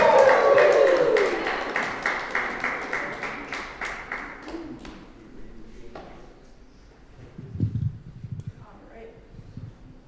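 Audience at a live comedy show in a brewery taproom applauds and cheers for the next comedian, loud clapping at first that fades out, followed by a voice talking.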